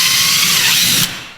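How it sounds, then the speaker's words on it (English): A power drill bores holes into the hull of a Native Watercraft Ultimate 145 Ultralight kayak, a steady close whirring grind that runs for about a second before cutting off, leaving a fading tail. "I'm sitting here drilling"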